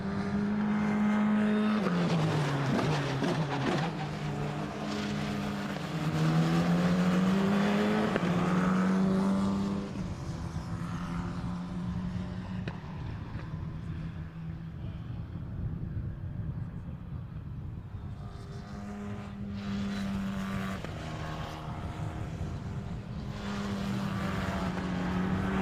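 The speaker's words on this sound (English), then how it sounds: "This is the final lap of race number 1 of the Central European Formula 4." Central European Formula 4 single-seaters race through the final lap at the Most circuit, high-pitched engines screaming and shifting as several cars pass close, fading, then returning loud.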